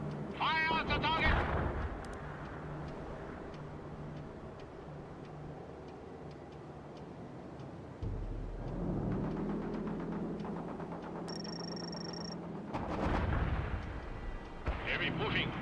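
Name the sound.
gunfire and artillery in the video game World in Conflict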